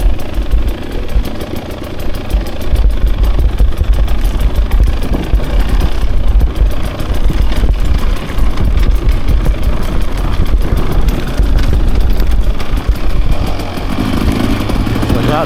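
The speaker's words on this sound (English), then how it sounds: "just barreling down the hill on my bike, throwing caution to the wind" A 2024 Husqvarna TE 300 dirt bike charges downhill, its engine droning loud and steady throughout with a rough, rattling mid-range tone and no talking.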